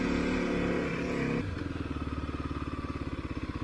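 A Kawasaki KLX250 dirt bike runs in first gear on twisty trails, its engine close and steady, then dropping to a lower rhythmic chugging putter.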